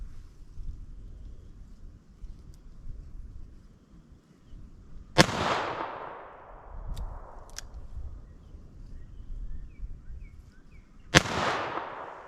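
Two sharp, loud .38 Special wadcutter shots from a snub-nose revolver, about six seconds apart, each cracking out and ringing away against a quiet outdoor backdrop.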